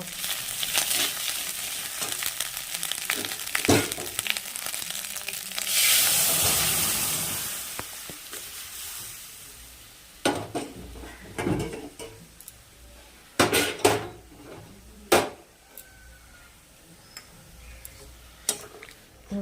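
Mung dal poured into a pan of frying spice paste gives a sudden loud hissing sizzle, followed by scattered sharp scrapes and taps of stirring against the pan.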